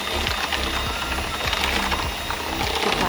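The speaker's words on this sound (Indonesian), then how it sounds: "Setelah itu kita siap untuk mixer dengan kecepatan rendah saja ya teman-teman." Electric hand mixer running at low speed in sugar for a klappertaart batter, a steady mechanical whir with rhythmic beater clatter against the bowl, close and continuous.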